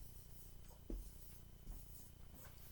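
A teacher writing the word "images" by hand for a 4th grade lesson: faint, soft scratching strokes with a couple of light taps, quiet and close, no voice over it.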